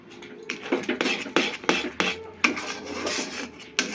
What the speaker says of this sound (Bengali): এবার এটাকে আমাকে ভালো করে মিশিয়ে নিতে হবে